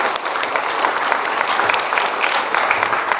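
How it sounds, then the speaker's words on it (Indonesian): A crowd at an AREBI and Bank BJB event applauds in a continuous, fairly loud burst of clapping lasting a few seconds, with no voice over it. "Tepuk tangan dong."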